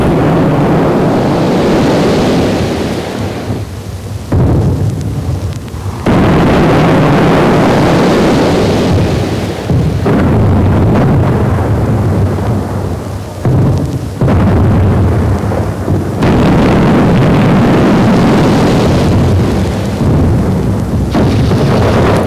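A massive WWI mine detonation rumbles as a loud, sustained roar of explosions, deep booming blasts rolling on in waves with brief dips between them.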